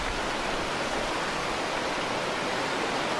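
A mountain stream flows in a steady, dense broadband rush of water, loud and unbroken throughout with no voices.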